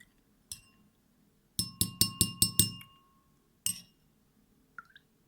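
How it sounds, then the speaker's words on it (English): A spoon stirring a solution in a glass gives a quick run of six bright, ringing clinks, with a few isolated taps before and after in a quiet room. "If I want to speed up the process of dissolving, I can stir it."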